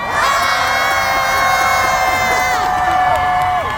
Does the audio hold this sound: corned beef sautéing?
no